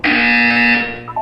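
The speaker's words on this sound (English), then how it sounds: "When you hear the buzzer, look down at the floor." Portal 2 sounds a buzzer, one loud, steady electronic tone held for nearly a second before it cuts off, followed by a brief softer blip.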